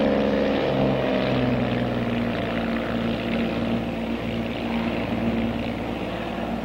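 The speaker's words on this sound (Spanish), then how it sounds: "Bimotor Bonanza 96 Tango en el aire a las 2:05" A twin-engine Bonanza airplane climbing just after takeoff, its propeller engines producing a loud, steady droning hum with throbbing tones that holds continuously throughout, with no voices.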